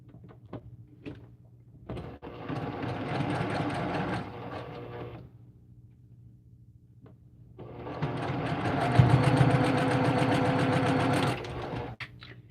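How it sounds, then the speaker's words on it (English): A sewing machine stitches a Northern Lights quilt panel made from jelly roll strips in two long steady runs, with quiet handling clicks before, between and after. "So I'll sew that on."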